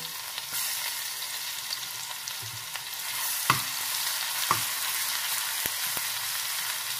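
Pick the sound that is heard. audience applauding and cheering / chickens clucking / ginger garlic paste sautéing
ginger garlic paste sautéing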